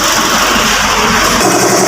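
A 2016 Toyota Vios engine runs loud and close at a service bay, a steady mechanical hum and whir that drops off sharply near the end as it is switched off.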